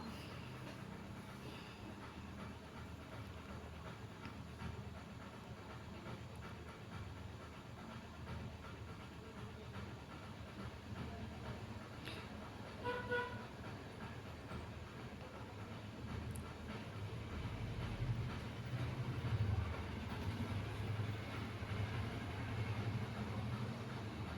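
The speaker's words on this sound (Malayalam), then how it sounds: "ഇപ്പോൾ അതേ ട്രെയിൻ എത്തി ഞങ്ങൾ ട്രെയിനൊക്കെ കയറി" A continuous low rumble of a train in motion nearing Tirur, Kerala, faint and steady, growing a bit louder and rougher toward the end.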